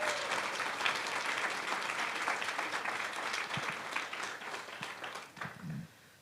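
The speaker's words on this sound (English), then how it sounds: "Let's give those folks a round of applause." An audience claps steadily at a university student speech showcase, a sustained round of applause in a hall that fades out toward the end.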